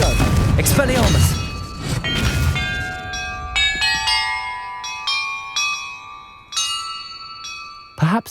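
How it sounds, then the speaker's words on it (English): Bells chime in the Hogwarts Legacy video game after a noisy, crashing opening with a voice under it. A run of separate bell strikes follows, some close together, with a dull thump at the very end. "Perhaps the map contains clues about the order I'm supposed to ring the bells in."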